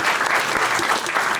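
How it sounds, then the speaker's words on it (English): A burst of enthusiastic applause from a crowd, dense clapping that fills the whole moment at a steady, loud level. "Round of applause for it."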